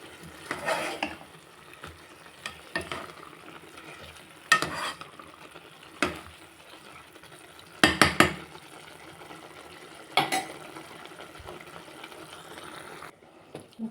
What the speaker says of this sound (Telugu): ఇప్పుడు మొత్తం మనము కలబెట్టుకోవాలి